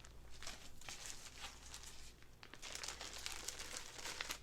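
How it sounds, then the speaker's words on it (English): Plastic packaging crinkles and rustles steadily at close range during a cross-stitch session, with dense crackling bursts continuing throughout and growing busier toward the end. "Sorry for the crinkling."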